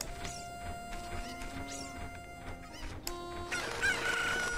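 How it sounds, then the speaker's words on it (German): Chicken sounds in the video game Zelda: Ocarina of Time, repeated clucks and squawks among game music, ending in a louder, denser flurry of agitated cackling. "Ein Hühnchen!"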